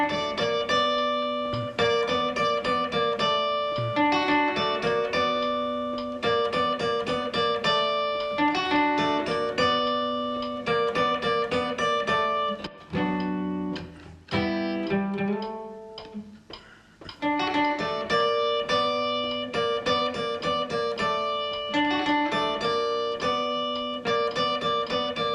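An instrumental verse on guitar, steady picked chords and a repeating riff at a moderate tempo, close and clear, with a short broken-up passage midway and no singing or talk.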